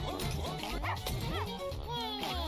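Several dogs bark and yip in quick bursts over busy game effects, explosions and music in the video game Russian Subway Dogs, loud and close throughout.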